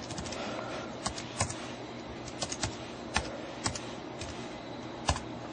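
Fingers type on the keyboard of a 2011 21.5-inch iMac to log in, a close, clear run of light clicks with a few louder keystrokes standing out over a quiet background.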